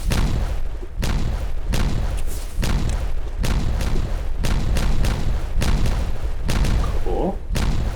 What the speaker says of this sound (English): Okay, we can detonate this.